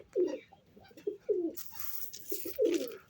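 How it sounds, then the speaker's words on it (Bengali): Domestic pigeons coo in several soft, throaty bursts at close range, spaced irregularly as the birds land, with light fluttering noise in between and no talking. "এই যে আমার টেডি কবুতরগুলো নামতেছে।"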